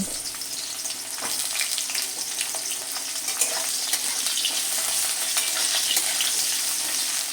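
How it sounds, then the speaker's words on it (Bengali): Pieces of pointed gourd sizzle steadily in hot oil as a vegetable fry for a Bengali mixed-vegetable dish, a close, continuous crackling hiss with occasional stirring clatter and no talking. "তেলের মধ্যে প্রথমে পটল দিয়ে দিলাম পটলটা কিন্তু ভেজে তুলে নেব"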